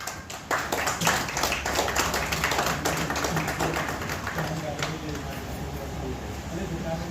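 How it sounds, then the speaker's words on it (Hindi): A crowd at a Premchand Jayanti poetry gathering in Begusarai, Bihar, breaks into loud, dense applause, with rapid overlapping claps sustained for several seconds and voices mixed in underneath. "एक बार जोरदार ताली बजा दे।"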